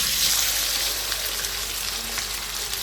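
Chicken pieces hit hot oil in a karahi for a spiced chicken karahi, giving a loud, dense, steady sizzle and crackle without a break and with no voices.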